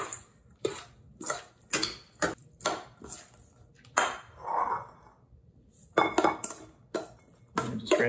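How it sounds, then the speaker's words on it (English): A spoon clinks and scrapes against a bowl while tandoori taco filling is mixed, a series of sharp, close metallic taps and knocks in an irregular rhythm with brief scraping between them. "Just give it a quick mix."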